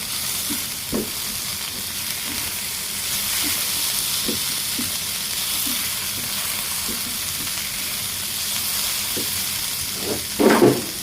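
Salt is stirred into a dish of shrimp frying in a pan. A steady sizzle runs throughout, with soft, regular scrapes and taps from a spoon and a louder clatter near the end.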